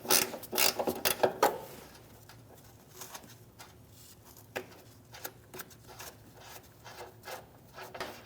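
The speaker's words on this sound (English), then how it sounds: "Now I'm going to get a ratchet wrench, speed this process up." A ratchet wrench loosening the rear upper control arm nut on a 2016-2025 Chevrolet Malibu: quick clicking and rubbing strokes, busiest at first, then sparser, close and fairly quiet.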